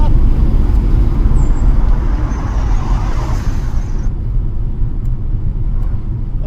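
A supercharged 2005 Jaguar XJR with a new intake manifold accelerates hard, giving a loud, dense, continuous low rumble and road roar from inside the car, with a faint high whine.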